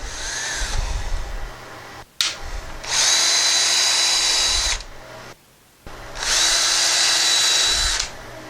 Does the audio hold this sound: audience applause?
no